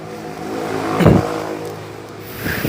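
A 2016 Daihatsu Xenia M family car's engine revs as it pulls away, a brief swell of mid-range engine noise peaking then settling into a steady hum, with no talking.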